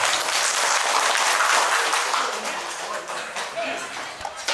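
Dense, loud applause from a crowd at an engagement ceremony, steady clapping that gradually thins and fades toward the end, with some voices mixed in.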